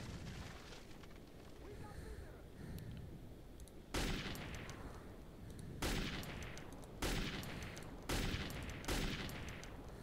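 Gunfire against enemies in the video game Metro 2033, with heavy, loud bursts of shots arriving in several separate clusters over a rumbling background, while a voice talks in between.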